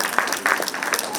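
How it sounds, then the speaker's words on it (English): Conference audience applauding a hospital team at a valedictory session, broadband clapping sustained throughout at moderate level, with no voices standing out. "Please give a big round of applause to AAG Hospital's team."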